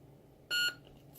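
A single bright electronic beep from a custom lightsaber's control board, short and clear over a quiet room hiss, lasting about a fifth of a second.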